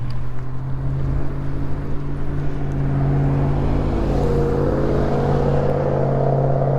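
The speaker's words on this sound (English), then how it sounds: "you got your car coming up now, Michelle?" A car draws near and goes by on a road, heard from e-bikes out riding, its steady engine drone loud and continuous under constant wind and road rumble, with no talking.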